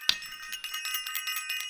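A bright metallic bell rings with a sharp first strike, followed by a quick series of lighter rings fading in rhythm, close and clear.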